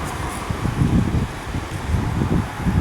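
Gusty outdoor wind buffeting the microphone in low rumbling surges, steady and fairly loud with no talking.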